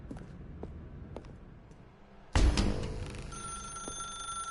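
A telephone in a video game starts ringing abruptly after quiet footsteps in a dark room, a loud, sustained electronic ring that rings on alone.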